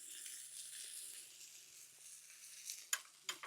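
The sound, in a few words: garlic and steak sizzling in a cast iron pan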